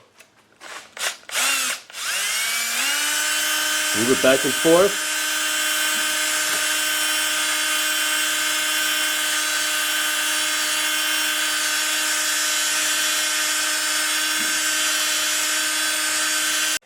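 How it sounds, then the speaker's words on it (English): A power drill spinning a cylinder hone inside a brake wheel cylinder whines at a steady high pitch for a long stretch after a few short bursts, with a brief spoken remark midway. "We put it on the drill, and we're going to drill that hole."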